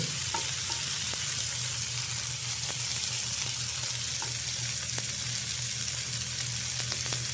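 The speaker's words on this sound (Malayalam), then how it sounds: "ഞാൻ 3 മീനിൻ്റെ 2 ബാച്ചായിട്ടാണ് ഈ മീൻ ഞാൻ വറുക്കുന്നത്." Fish fried in two batches of three in a pan over full flame, giving a steady, dense sizzle of hot oil throughout with faint scattered pops and clicks and no talking.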